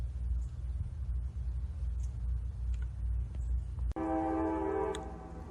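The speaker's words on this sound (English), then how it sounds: "to the backdrop of a train in the background" A train passes in the background with a steady low rumble, and a horn sounds near the end, its strong tonal blast rising over the rumble.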